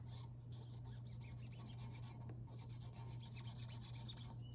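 Steady rasping scrape of a Zalman CNPS20X CPU cooler's machined metal base being lapped back and forth on a Starrett surface plate, close up, with a low hum underneath and no talking.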